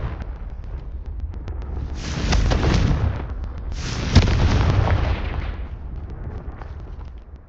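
Confringo blasting curse in Hogwarts Legacy going off as loud, close explosions, with two broad booming bursts and a sharp crack at the second, each trailing into a rumbling decay.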